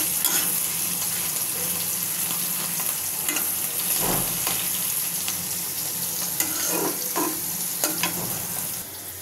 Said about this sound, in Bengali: শিমগুলোকে ভালো করে সিদ্ধ করে নিয়েছি, এখন বেশি করে তেল দিয়ে ভেজে নেব